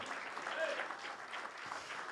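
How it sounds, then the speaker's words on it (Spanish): A church congregation claps together in a soft, steady burst of applause, many hands blending into an even patter that fills the short span. "¿Cuánto le dan un aplauso al Señor?"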